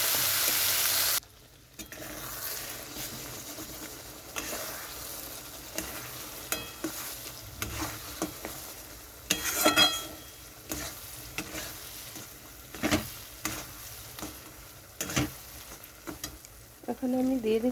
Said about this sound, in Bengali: এখন আমি বাটাটা দিয়ে দিচ্ছি তেলের মধ্যে